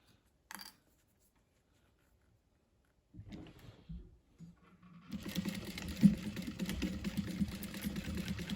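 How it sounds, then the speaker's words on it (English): A sewing machine stitching a fabric laptop sleeve at a quarter-inch seam starts after a few faint clicks and handling sounds, then runs as a close, steady whirring hum with rapid needle ticking. "we're going to sew them on at a 1/4 inch seam allowance."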